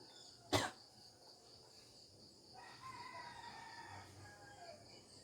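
A rooster crows at around 3:45 in the morning, faint and distant, in a long wavering call. A sharp cough-like burst sounds close to the mic just before it, over quiet background noise.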